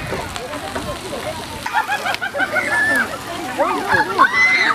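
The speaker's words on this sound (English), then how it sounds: "The water about to drop." Water drops and splashes down around a group of people, a broad splattering rush over loud excited shouting and overlapping voices, with children among them.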